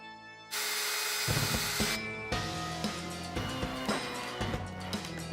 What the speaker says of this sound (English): I'm going around with these clamps and I'm hitting this with a few more nails